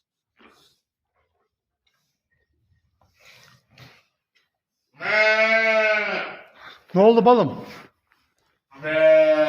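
Sheep give loud, close bleats in separate bursts, two long wavering calls and a sharp shorter one, with quiet gaps between them and a person speaking briefly nearby.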